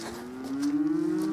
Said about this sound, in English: there's a herd of cows in the bottom field